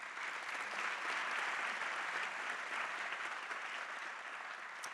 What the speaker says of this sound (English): Let's give them a big round of applause one more time.